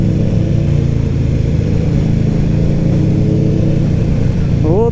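New Kawasaki Ninja motorcycle at a 2024 season-opening ride in Kremenchuk, engine running steadily and loud at close range for several seconds, with a slight rev starting at the very end.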